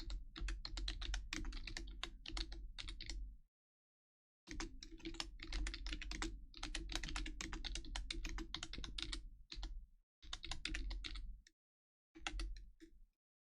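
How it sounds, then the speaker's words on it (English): Fast, clattering typing on a computer keyboard during a livestream: dense bursts of keystrokes separated by short pauses, close and clear, with no talking. "Oh my god, my typing."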